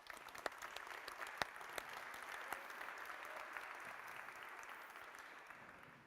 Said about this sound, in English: can we have a round of applause for